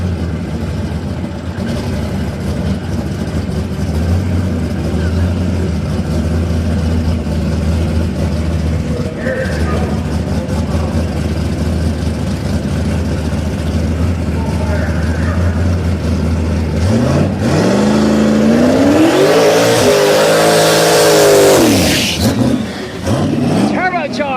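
Chevrolet Camaro race car at a drag strip, a loud steady engine rumble beneath ongoing announcer talk, rising into a sweeping rev toward the end.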